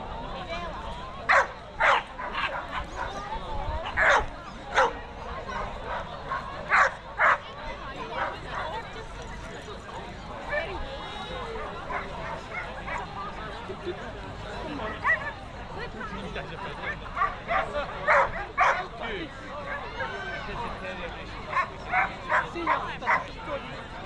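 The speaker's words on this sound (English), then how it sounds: "it's all the wee tiny dogs that are wanting to fight with everybody" Small dogs and puppies at an outdoor country dog show in Perthshire, yapping in quick repeated bursts of sharp high barks and yips, near and loud over a murmur of crowd chatter.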